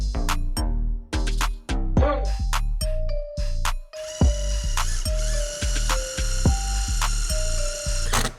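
A power drill driving screws during a cargo trailer conversion: repeated short, loud whirring bursts with ratcheting clutch clicks, close by, with a few voices between them.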